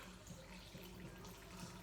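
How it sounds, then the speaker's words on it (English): Filtered water pours from a jug into a pot of vegan vegetable broth, a steady close splashing stream running unbroken and moderately loud. "So I'm going to add some filtered water"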